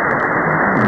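Loud, continuous hiss and crackling static from a Malachite DSP radio receiver on band antennas, a dense broadband interference noise filling the whole moment without speech.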